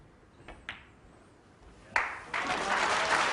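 A snooker crowd begins to applaud after a quiet moment with a couple of sharp clicks of balls, the clapping building into a steady, moderately loud ovation at the end.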